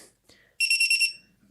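The lost-model alarm buzzer on a lightweight 5-inch FPV drone gives a loud, shrill, warbling electronic beep lasting about half a second, close by after a few faint clicks.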